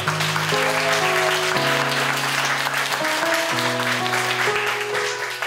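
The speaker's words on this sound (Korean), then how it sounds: "여러분 감사의 박수 한번 쳐드립니다" Church family retreat gathering applauds the volunteers who grilled meat, a steady wash of clapping running under sustained keyboard-like music for several seconds.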